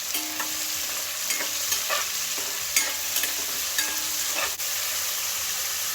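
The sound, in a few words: stirring vegetables frying in a pan for Mexican rice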